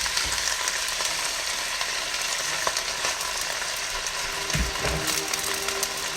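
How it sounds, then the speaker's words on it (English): Wet broccoli rabe hitting hot garlic oil in a pan gives a steady, close sizzle and crackle that holds evenly throughout, with a few soft clatters as the greens settle. "It's wet, so it's going to sizzle."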